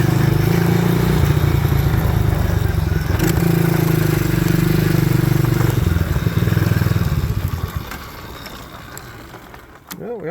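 An old engine, apparently a motorcycle, runs at a loud steady idle with a low throbbing drone and some mechanical clatter, then fades and stutters toward the end.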